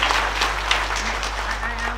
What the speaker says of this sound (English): Another clap for our guest of honor.